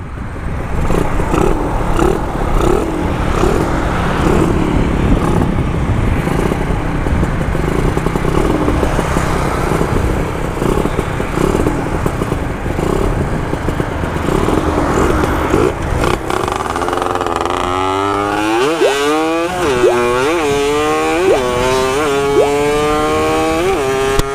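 A Honda Nova motorcycle rides at speed on an open road, its engine a loud continuous buzzing drone that later rises and falls in repeated revving sweeps, with no voices.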